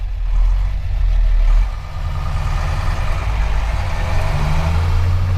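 A modified Unimog truck's diesel engine runs nearby with a deep, steady low rumble, dipping briefly before settling back into a continuous throb.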